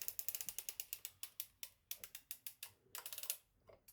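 Circular sock machine cranked across, knitting with Kevlar yarn, gives a rapid run of crisp ratcheting clicks, close and fairly quiet, with brief pauses in the rhythm.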